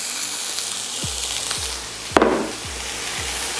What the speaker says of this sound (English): I'm going to start by putting everything into this pan so I can saute it down